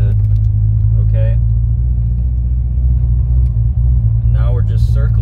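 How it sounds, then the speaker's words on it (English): A cammed Corvette Z06 engine lopes at about 1100 RPM while crawling around a parking lot, a loud, steady low rumble with uneven pulsing, under brief talk. "Now we're just circling around the parking lot. You can see in the picture I'm bucking and going back and forth. And this is around 1100 RPM."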